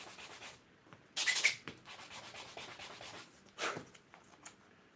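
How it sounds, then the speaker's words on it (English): Short bursts of hand sanding on a small beech wood box for a 1/12th-scale dollhouse miniature, quiet and close, with a couple of brief, sharper rubbing strokes among softer scratching. "it needs a little bit more sanding"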